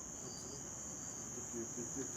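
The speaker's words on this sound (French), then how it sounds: "les grillons chantaient de plus en plus" Crickets chirp at nightfall, a steady high-pitched trill running without a break, faint and continuous, with soft low background murmur beneath.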